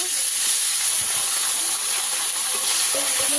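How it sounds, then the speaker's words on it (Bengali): Bhola fish pieces fry in hot oil with a loud, unbroken broadband sizzle that holds steady from start to finish, and faint low clatters from the pan now and then. "এই মাছগুলোও ভেজে নেব"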